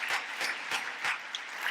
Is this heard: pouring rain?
no